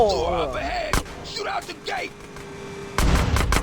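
Gunfire and blasts from the video game GTA San Andreas, with a single sharp shot near the start and a loud, sustained explosion at the end, under excited talk and game dialogue.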